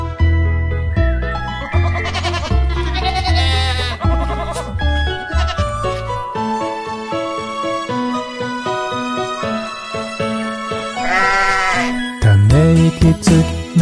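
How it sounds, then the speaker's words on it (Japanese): A bleating sheep voice within a children's nursery-rhyme song about Little Bo-Peep, repeated bleats sounding over bright sung melody and instrumental backing, loud and close. "リトルボーピープ羊の子に尻尾をつけてあげた"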